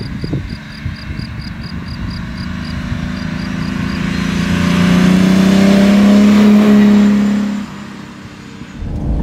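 A 1967 Lamborghini 400 GT 2+2's V12 engine idles, then revs up into a sustained, loud throaty roar that holds for a few seconds before dropping back off.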